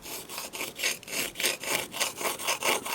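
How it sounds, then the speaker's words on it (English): A slipstone with a little oil rubs back and forth over the metal decocking lever of a Smith & Wesson third-generation pistol, making a close, rhythmic rasping scrape in steady strokes, about three per second. "we're just going to use our special slipstones with a little bit of oil, and just by rocking the stone while we're"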